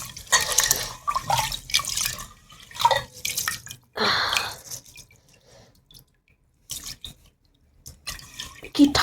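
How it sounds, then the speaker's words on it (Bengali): Cold tap water splashes and runs over hands washing dishes at a sink in the morning, in close, uneven gushes that stop and start, with brief quiet gaps between. "তো সকাল সকাল ঠান্ডা জলে হাত দিচ্ছি"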